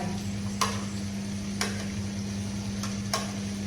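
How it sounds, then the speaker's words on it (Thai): Coconut and carrot being stirred in a pan, soft sizzling over a steady hum with four light scraping knocks of the utensil spaced about a second apart. "ใส่มะพร้าวกับแครอทลงไป"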